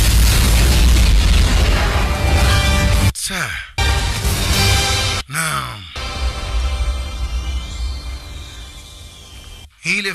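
A loud movie explosion booms with deep, roaring low-end rumble, followed by further heavy blasts and fiery bursts, cut by short silent gaps.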